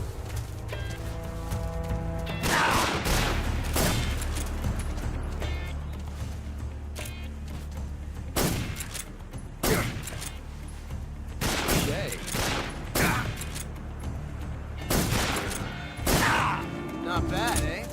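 Gunfire in the video game Metal Gear Solid 3: repeated bursts of shots and sharp impacts over a continuous game soundscape, with a person talking at times between the shots.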